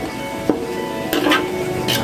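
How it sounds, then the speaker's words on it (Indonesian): Red ginger extract starch cooking in a pot in a production kitchen, with a few soft scraping stirs and light utensil knocks over a steady background hum. "Yang sudah mengendap, tinggal ekstraknya yang aku masak."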